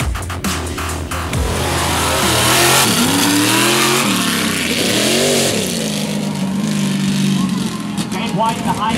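High-and-tight mud truck at a Soggy Bottom mud event, its engine loud and close, revving up and down in long surging waves over the continuous rumble of the motor.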